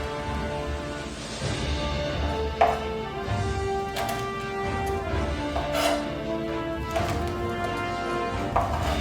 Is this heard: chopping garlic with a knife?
yes